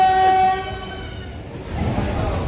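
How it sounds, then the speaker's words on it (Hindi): A train pulls in with a long steady horn blast at the start, followed by rumbling wheels and rail noise building again toward the end, heard fairly close with no speech over it. "ले भाई रेल आ गई चलते हैं फिर"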